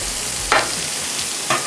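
Steak sizzles steadily in a hot pan for a cowboy stir fry, with a couple of brief scraping stirs or flips over the continuous frying hiss and no talking.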